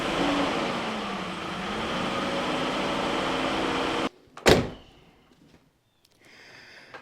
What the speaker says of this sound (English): I'm hearing still a little bit of a clacking sound coming from that area, and the engine's still out of balance.